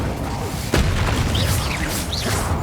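A burst from the Incendio fire spell in Hogwarts Legacy: a sudden thump and whoosh flaring into a roaring, crackling rush, with bright chime-like game sounds rising and falling above it.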